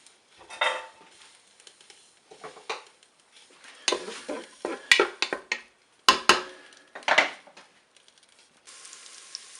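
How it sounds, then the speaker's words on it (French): Bacon lardons drop into the pot of a Cookeo electric cooker set to browning mode, giving a run of short clattering bursts and scrapes with quiet gaps and a faint sizzle beneath, close and moderately loud. "Je dépose mes lardons dans la cuve du Cookéo"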